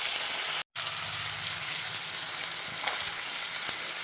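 Whole tomatoes frying and softening in a pan, a loud, continuous sizzle with a brief break near the start, heard close up.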